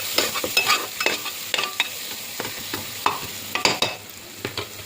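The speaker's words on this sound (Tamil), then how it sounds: "நல்லா வதக்கி விடுங்க." Soya chunks and other biryani ingredients are sautéed in a hot pan, giving a steady sizzle broken by repeated scraping stir strokes, close and fairly clear with no talking.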